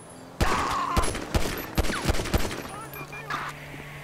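Gunfire in a GTA game: a burst of loud, sharp shots in quick uneven succession, close by, fading toward the end.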